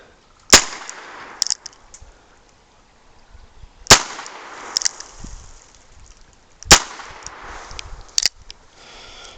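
Three sharp, loud .22 shots from an H&R model 649 revolver fired outdoors, evenly spaced about three seconds apart, each with a faint metallic clink afterward and no talking.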